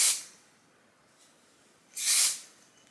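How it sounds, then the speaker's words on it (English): Kenra dry wax hair spray hisses out in two short bursts, one at the very start and a louder, longer one about two seconds later, close to the microphone with quiet in between. "Then I'm gonna use this Kenra dry wax spray"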